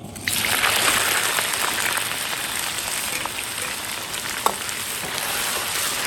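Ciba chili paste and seasonings stir-fry in hot oil, giving a loud continuous sizzle with crackling pops and one sharp clink of a utensil partway through.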